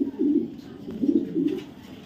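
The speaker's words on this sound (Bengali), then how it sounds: "দেখেন জাস্ট কোয়ালিটি দেখেন, সিলভার র পাঙ্খি কবুতর" Silver pankhi pigeons coo in a cage, giving a few close, soft, throaty coos in repeating bursts with no talking.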